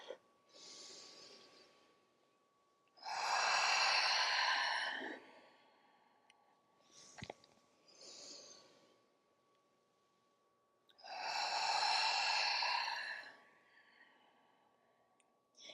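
Slow yogic breath cycles with rounds of movement: two long, loud, breathy exhalations of about two seconds each, separated by quieter inhales, soft rustles and a faint click, all close and without speech.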